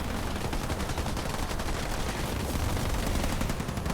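Continuous gunfire crackles from a Halo Wars 2 battle, a steady dense stream of rapid shots with snipers firing among them, fairly loud with no pauses.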